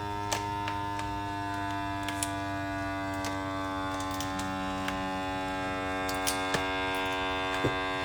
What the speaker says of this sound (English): And vacuum and seal.